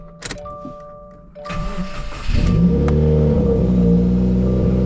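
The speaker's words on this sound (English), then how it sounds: "let's go ahead and get this cold start" A 2018 Subaru WRX cold start: the engine cranks and catches, then settles into a loud, steady high idle with a deep rumble.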